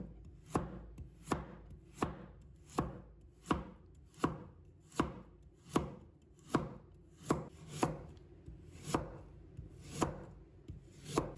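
A knife cuts carrot into thin strips on a wooden board, tapping in a steady rhythm of about fifteen sharp, close knocks over a low background hum.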